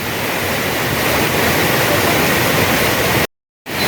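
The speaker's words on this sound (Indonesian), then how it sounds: "Kita sudah sampai di titik finish air terjun kembar Lembah Purba" A powerful twin waterfall at Lembah Purba, Sukabumi, roars steadily with dense, rushing white noise, loud and close, then cuts out briefly near the end.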